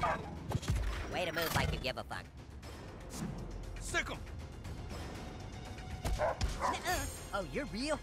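Dogs bark and yip in South Park: The Fractured But Whole, short repeated bursts mixed with game sound effects and music while a player talks over them.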